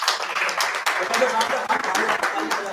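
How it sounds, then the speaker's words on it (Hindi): Audience applause at an awareness programme event in Jabalpur, a dense steady patter of many hands clapping throughout, with voices mixed in underneath. "तालियां बजते रहे।"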